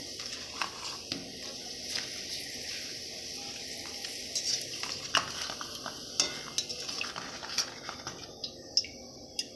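Papad frying in hot oil, puffing up with a steady close sizzle broken by frequent crackles and occasional scrapes of a utensil, with no voices.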